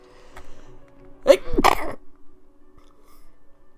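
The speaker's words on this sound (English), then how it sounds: "Excuse me, that was a sneeze!" A single sharp sneeze bursts out close by, a quick intake followed by an explosive burst, then quiet.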